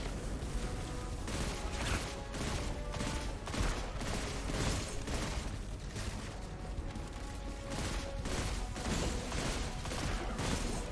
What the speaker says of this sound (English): It's a decent pulse rifle.